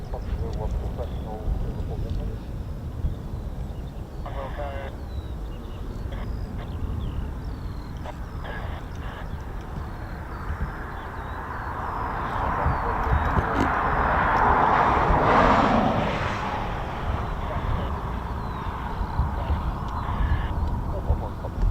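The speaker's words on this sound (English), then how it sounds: "So our 6 F-35B is taxiing out shortly." An F-35B stealth fighter jet taxis at an RAF airfield, its engine whine swelling to a broad roar midway, faintly heard beneath ongoing talk from nearby spectators.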